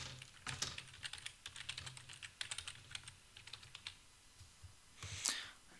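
Password typed on a computer keyboard, quick irregular clusters of close key clicks with short pauses and a heavier keystroke near the end.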